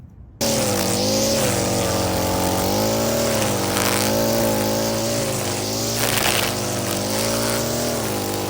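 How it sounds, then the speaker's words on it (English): Small garden weed whacker engine catching after a brief quiet moment and then running continuously, a loud buzzing drone that wavers in pitch as it revs up and settles. "learn how to start the freaking weed whacker"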